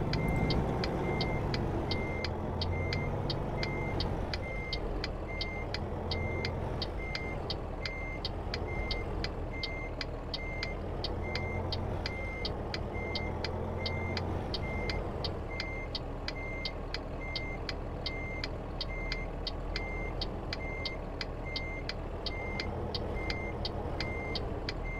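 Reversing beeps from a Peterbilt 389 truck in American Truck Simulator, a steady evenly spaced electronic beep repeating for the whole stretch over a low idling diesel engine hum, no talking.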